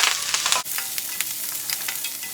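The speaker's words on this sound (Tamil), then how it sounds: "இப்போ வெங்காயம் நல்லா வணங்கிருச்சுங்க." Onions and curry leaves fry in a pan, giving a steady close sizzle with crackling pops and a sharp stirring scrape about midway, and no voices.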